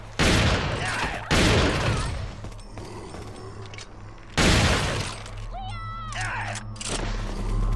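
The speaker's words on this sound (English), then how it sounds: "And I'll just use my shotgun on it." Shotgun blasts in Resident Evil 4, three loud broadband bursts spaced a few seconds apart over a busy game background with voices and creature cries.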